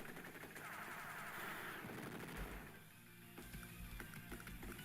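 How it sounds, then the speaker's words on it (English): In the Advance Wars: Days of Ruin video game, an anti-tank unit attacks a tank with rapid, rattling bursts of gunfire and blasts under a constant battle-music bed, then a short series of sharp impacts. "I can actually engage the tank unit with my anti-tank"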